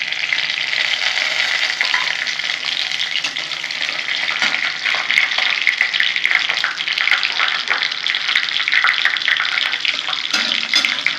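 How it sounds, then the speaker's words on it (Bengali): Bay leaves, whole cumin, cardamom, cinnamon, cloves and dried red chillies temper in hot oil for a chicken and onion dish, giving a loud, steady, dense sizzle and crackle that holds throughout with no talking. "এখানে তেজপাতা, গোটা জিরে, এলাচ, দারচিনি, লবঙ্গ, শুকনো লঙ্কা সব ফোড়নে দিয়ে দেবো।"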